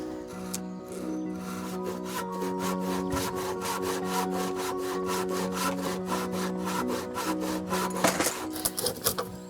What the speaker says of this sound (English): these pieces here, we can just simply saw them off. I'll just start that now